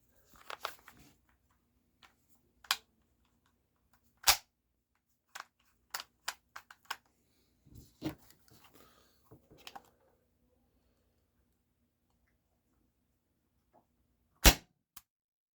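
An Umarex HDR 68 CO2 revolver fires rubber steel shells weighing 6.3 grams, giving sharp, isolated cracks spaced irregularly across a quiet room with small handling clicks in between.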